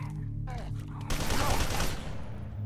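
Gunfire in the PC shooter F.E.A.R. 2, a burst of rapid shots lasting about a second over steady game background, close and loud.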